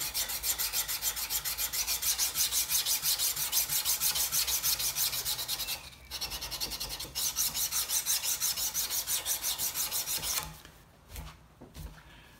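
Hand filing on metal to clean up grind lines in a workshop, a steady rhythmic rasp of repeated forward strokes, close and loud, pausing briefly a couple of times before stopping near the end.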